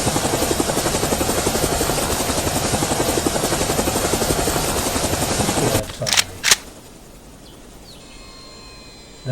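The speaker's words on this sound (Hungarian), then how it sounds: "Akkor a helikopterünk ott van a levegőben" A helicopter in the game GGMax flies with a loud, steady rotor and engine drone that runs continuously, then breaks off with two sharp bursts before dropping to a much quieter background.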